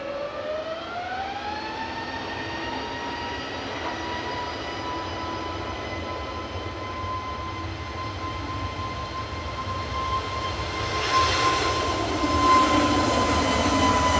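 An EasyJet jet airliner on its flight to Sofia from Manchester Airport produces a rising engine whine with steady tonal hums over a broad rumble, swelling louder toward the end, with no voices.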